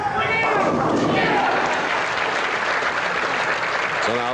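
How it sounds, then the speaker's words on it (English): Bowling fans at the 1982 PBA True Value Open applaud and cheer for Art Trask, a loud, dense wash of clapping and crowd noise filling the hall, with speech faintly mixed in. "the fans are beginning to pick up on the name of Art Trask and are cheering him on"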